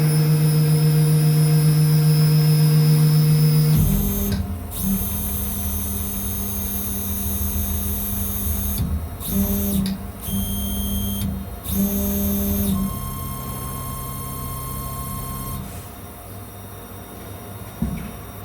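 A 3D printer homing its axes before a print, with steady motor and fan hum and stepper tones that shift and pause in short segments, close and fairly loud, no talk.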